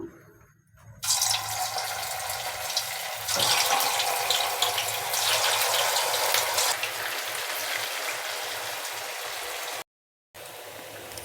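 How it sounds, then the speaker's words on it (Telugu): Potato and carrot Manchurian balls deep fry in hot oil with a loud, steady sizzling hiss that runs almost the whole time, cut by a brief silent gap near the end. "ఇప్పుడు ఒక్కొక్కటిగా ఆయిల్లో వేద్దాము"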